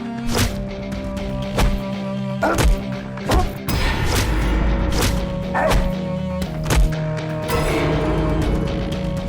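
Repeated blows and thuds of someone being beaten, landing as sharp, loud impacts at an irregular pace, with a brief low rumble and scuffle in the middle.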